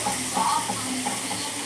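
Food being stirred in a frying pan, with a steady sizzle and a few soft scrapes running throughout.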